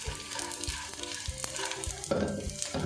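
Besan panjiri fries in ghee until golden, giving a continuous close sizzle and crackle with a few stirring scrapes of a utensil in the pan and no talking.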